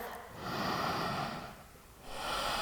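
A deep breath taken during a yoga session for hips and hamstrings, a close breathy inhale swelling then fading, a pause, and another breath beginning near the end, with no talking.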